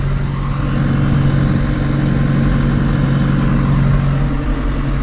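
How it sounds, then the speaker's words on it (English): A John Deere 2650 tractor hauls a heavy Fleming roller across a field, its diesel engine laboring in a loud, continuous low rumble with a steady droning hum throughout. "The tractor's pulling the roller better than I expected"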